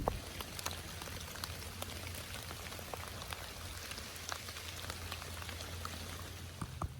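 Steady rain patters through the woods near a deer bedding area, a soft continuous hiss dotted with individual drops striking leaves close by, faint and unbroken with no voices.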